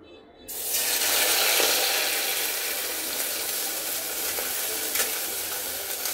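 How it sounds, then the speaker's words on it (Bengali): A milk powder mixture poured into hot ghee in a pan while making barfi bursts into a loud, dense sizzle after a brief quiet start, then settles into a steady bubbling hiss with faint stirring scrapes. "তো আমি এখন ঘিটা দিয়ে দিচ্ছি। দিয়ে দিব দুধের এই মিশ্রণটা।"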